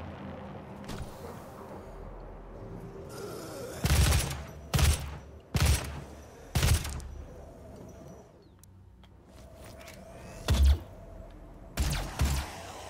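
Bursts of gunfire from the DOOM video game crack out in irregular volleys, several loud close shots spaced over a quiet, rumbling hellish background with no talk.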